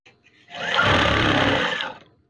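A sewing machine stitches curtain fabric in one steady, loud run of about a second and a half, ramping up and winding down, with no talk over it.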